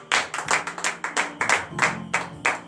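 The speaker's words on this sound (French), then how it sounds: "Donnez de vive acclamation à l'Éternel." Rhythmic hand clapping at a church morning prayer service, about a dozen sharp claps in steady succession, close and fairly loud, with no talking.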